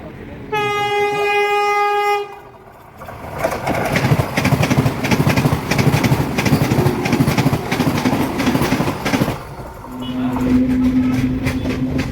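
A Konkan Railway train horn blares with a long harmonic blast, then the train rumbles past steadily with rattling wheels, ending with another horn tone.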